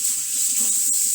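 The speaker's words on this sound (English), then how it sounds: "I need a little bit of water in the rice" Water pouring in a steady hissing stream into rice cooking with vegetables, close and brief.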